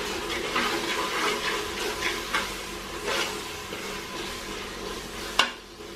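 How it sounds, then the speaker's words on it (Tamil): Biryani masala for country chicken biryani sautés in a pan with a gentle sizzle and repeated scraping stirs, ending in one sharp clack of the utensil, with no one speaking. "இப்போ வந்து மசாலா வந்து பச்சை வாசனை போகிற அளவுக்கு வணக்கி விட்டுடலாம்."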